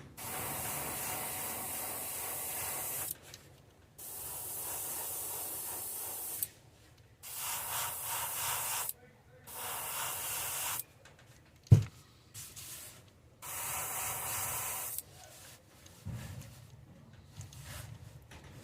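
Airbrush spraying paint onto a crankbait fishing lure, a steady close hiss in several bursts of a few seconds each, separated by short pauses, with one sharp click partway through.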